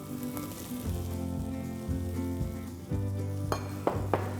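Soaked and drained soya nuggets fry in a hot pan with onion-spice masala, giving a loud, steady sizzle with a few stirring scrapes and knocks near the end.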